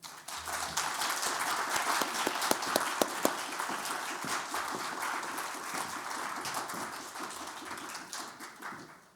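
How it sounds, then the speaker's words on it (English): Audience applause at a lecture event on Japanese Kogei crafts, a steady roomful of clapping held for about nine seconds, dense and even with a few sharper individual claps standing out partway through before it fades slightly. "Please, a round of applause for Dr."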